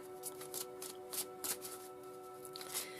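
A deck of tarot cards being shuffled by hand, with quiet repeated riffles and soft papery slaps in short bursts, fairly faint and close, with no talking.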